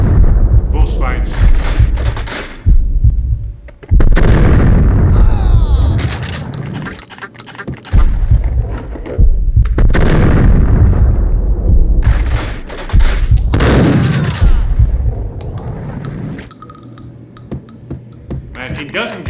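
Gunfire from the video game Max Payne comes in loud, heavy bursts of shots and thuds, separated by short quiet gaps, with some talk over it.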